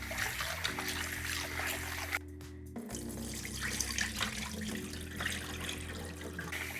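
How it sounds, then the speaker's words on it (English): Tap water runs steadily into a sink as rice is rinsed for Korean steamed rice, a continuous close splashing flow with a brief pause midway. "it's important to rinse the rice several times"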